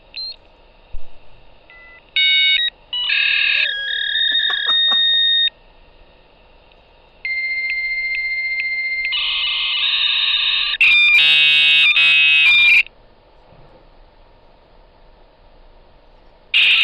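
Dial-up modem connecting to the internet: a sequence of dialing beeps followed by handshake tones, warbling screeches and a harsh hissing burst over a faint background hum, loud and alone.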